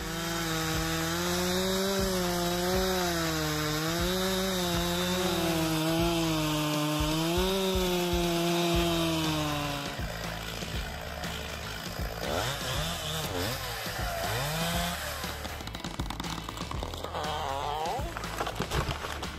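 A big chainsaw cuts through a tree, its loud, steady engine whine rising and falling as the chain bites into the wood, then giving way to a rougher, more broken cutting noise.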